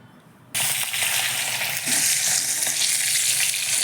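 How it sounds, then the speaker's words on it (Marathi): Green chillies frying in hot oil, a sudden loud sizzle kicking in after a quiet half-second and holding steady and close with faint clinks, while a rice and dal dhokla tempering is prepared. "मिरच्या तळून घेत आहे मी"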